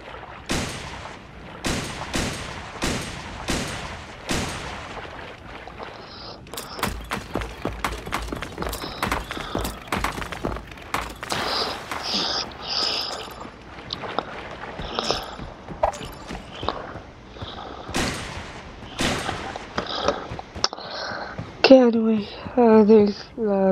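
Rapid bursts of sniper rifle and other gunfire in the shooter game Creative Destruction, sharp cracks, some isolated and some in quick runs, over a steady game soundscape with voices and effects.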